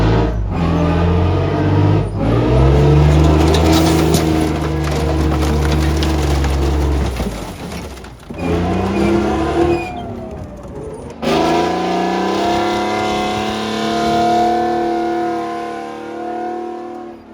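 Tank driven over an object, its engine roaring loudly and revving up and down close by, with crunching and splintering wood as it rolls over, then a steadier droning rev.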